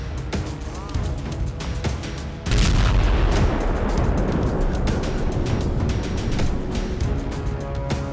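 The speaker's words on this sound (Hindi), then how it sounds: "ईरान ने democratic party of Irani Kurdistan के दफ्तर पर दागी मिसाइल" Missile strikes and explosions in an Iranian attack on a Kurdish party office, heavy booming blasts that swell into a dense, sustained roar after a sharp onset, loud and continuous.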